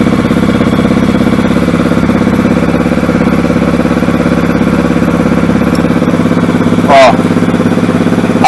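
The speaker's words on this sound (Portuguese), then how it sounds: "Liguei a moto, já vai estar gravando." A motorcycle fitted with an Athlon M250 datalogger module idles right beside the recorder after being started, its engine thrumming loudly and steadily with a rapid, even pulse, broken only by one brief sharp sweep near the end.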